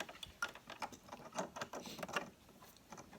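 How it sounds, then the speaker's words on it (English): Bernina buttonhole foot 3A clicking onto a sewing machine: a quiet run of small plastic-and-metal snaps and taps, close and faint, with no voice. "So I'm going to pop this buttonhole foot on."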